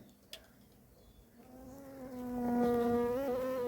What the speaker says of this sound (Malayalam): നമ്മൾ ബോട്ടിലേക്ക് മാക്സിമം ഈച്ചകളെ കയറ്റിയെങ്കിലും അതിൻ്റെ അകത്തും നല്ലതുപോലെ ഈച്ചയുണ്ട്